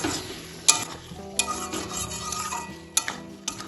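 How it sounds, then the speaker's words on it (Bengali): Whisked sour curd being stir-fried in hot oil with spiced pointed gourd for a vegetarian doi potol curry. A low sizzle runs under four sharp spatula clacks against the pan at uneven intervals. "টক দইটাও ভালোভাবে তেলের সাথে কষিয়ে নেব"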